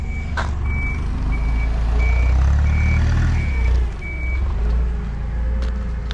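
A Toyota forklift sounds a regular series of reversing beeps over a loud, steady diesel engine rumble while it works at a battery delivery for a Chevrolet Bolt EV swap.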